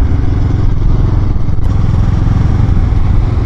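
A 2022 Kawasaki Z650RS motorcycle riding along back roads, its engine droning loud and steady with close wind rush and faint rattles throughout.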